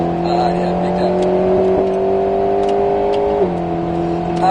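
An Alpine A110 S on a race circuit accelerates hard, its engine tone climbing steadily before dropping sharply at an upshift, loud and close from inside the car, with a voice talking over it.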